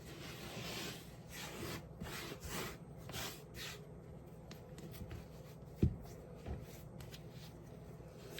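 Fresh fettuccine pasta dough kneaded by hand, folded and pushed, gives a steady soft rubbing and shuffling texture with a few muffled thumps, including one sharper knock near the end, close and quiet with no talking.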